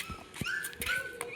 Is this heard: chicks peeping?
no